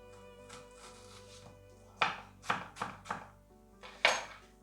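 Knife chopping an onion into rings for vegan roasted capsicum risotto bowls: soft early cuts, then four sharp, close thwacks against a cutting board, spaced unevenly with a pause before the last, no talk.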